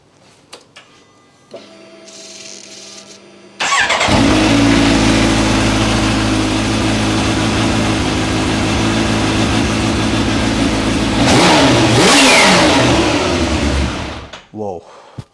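An inline-four liter-class motorcycle engine fires up close by and idles with a rough, throbbing rumble, then revs sharply before dropping back and cutting off.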